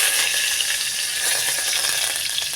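Curry leaves crackle and sizzle in hot oil in a pan, a loud, steady hiss close by with no talking over it.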